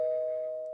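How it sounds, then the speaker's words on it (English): A doorbell chime rings once indoors, a steady sustained tone that slowly fades, heard alone at moderate volume with no talking. "Somebody's ringing the doorbell."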